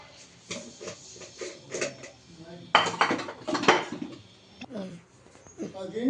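Foxtail millets and fenugreek seeds are rinsed in a metal vessel, with clattering, scraping and swishing knocks of grain and water against the pot, close and irregular, while a voice talks intermittently.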